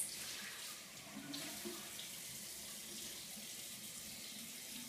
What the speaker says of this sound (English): When you're done, rinse with lukewarm water.